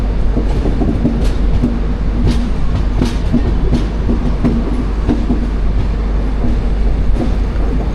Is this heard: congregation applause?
no